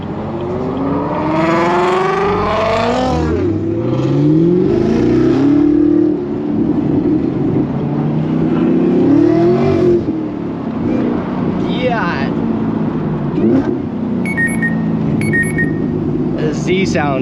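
A Chevrolet Camaro ZL1 1LE engine revs loudly in rising and falling sweeps, close by, while people talk over it.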